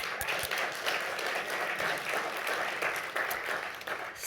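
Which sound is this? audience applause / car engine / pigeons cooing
audience applause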